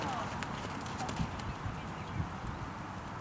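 Horse hooves moving into a canter during a riding lesson, soft rhythmic thuds over a continuous outdoor rumble with some background noise, fairly faint and distant.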